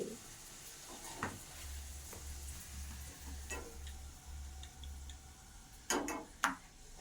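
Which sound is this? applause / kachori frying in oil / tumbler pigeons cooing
kachori frying in oil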